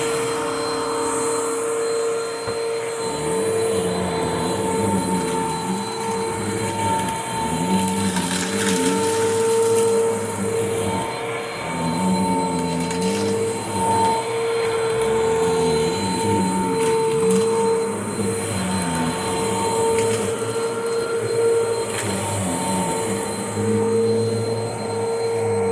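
A 2009 Hoover Mach upright vacuum cleaner runs with a steady, loud motor drone and whine throughout, with some wavering rumble beneath and no talk.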